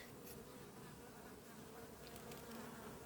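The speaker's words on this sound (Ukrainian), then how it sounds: "Дивіться, стоять вулики рядом. Це льот." Dense, steady buzz of many bees flying around beehives standing side by side in a warm-season apiary, continuous and fairly even, with no talk over it.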